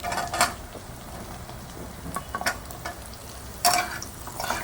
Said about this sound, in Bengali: আলুগুলো এবার ভাজা ভাজা হয়ে গেছে।